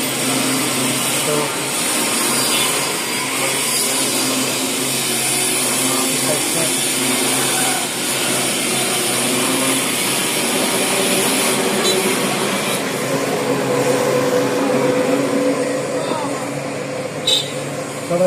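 A machine cutting the tread of a motorcycle tyre, a continuous loud grinding whir that runs steadily throughout, with someone talking over it.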